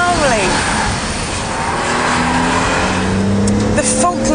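A BMW Z3 roadster with rear-wheel drive accelerates hard in fifth gear, a loud steady engine roar running throughout with a rising tone, likely heard from inside or close to the car.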